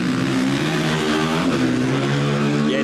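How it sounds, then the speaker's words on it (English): A race motorcycle at the Finke Desert Race, one of a field of KTMs, its engine revving loudly and continuously with a dense rough roar, close by and unbroken. "have a listen to the revs."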